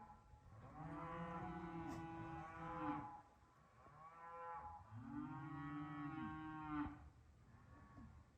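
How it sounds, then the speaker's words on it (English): A neighbor's cows moo near a winter off-grid cabin, two long, drawn-out calls with a short pause between, quiet and somewhat distant. "Neighbors' cows are not happy today."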